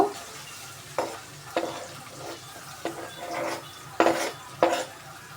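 Onions go into a pan for white sauce pasta, stirred with a series of sharp scraping clatters of a spoon against the pan over a soft steady sizzle, with no talking.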